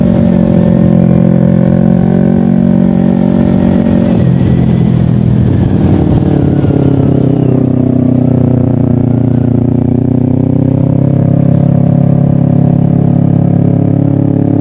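Kawasaki Ninja 250 FI motorcycle with a Pro Liner exhaust, revved loud and close with a deep droning tone that swells and dips with the throttle, running continuously without talk.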